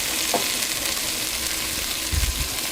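Celery, onion and carrots sautéing in a pot for a beef stew: a steady close sizzle throughout, with a light utensil clink early on and a few low knocks of stirring near the end.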